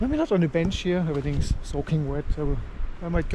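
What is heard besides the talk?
No distinct noise like a dog, phone or traffic.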